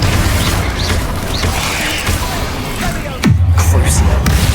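A Confringo fire spell going off in Hogwarts Legacy combat, heard as booming blasts and whooshing effects over game music, with a sharp impact near the end.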